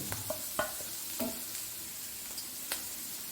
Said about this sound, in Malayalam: മല്ലിപ്പൊടി ഗരം മസാലപ്പൊടി ഇതൊന്ന് വഴറ്റിയെടുക്കാം